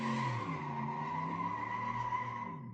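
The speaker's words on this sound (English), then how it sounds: "my little neighbors, I don't know if you can hear them with their little racing burnout" A neighbours' small race car does a burnout, its tires skidding and squealing in a sustained tonal screech over a rumbling engine, heard at moderate distance and fading slightly at the end, with no talk.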